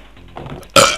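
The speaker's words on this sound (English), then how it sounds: "Burp." One loud, abrupt burp erupts close to the microphone after a brief murmur of lower sound, ending the moment with a raspy, full-bodied belch.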